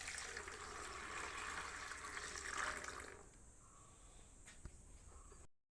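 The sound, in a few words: water being poured to wash fish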